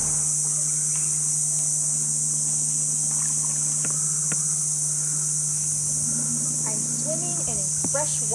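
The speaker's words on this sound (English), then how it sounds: "Listen to all the crickets." Steady high-pitched cricket chirring in a freshwater mangrove runs throughout alongside a constant low hum, with faint scattered voices and occasional small knocks in the background.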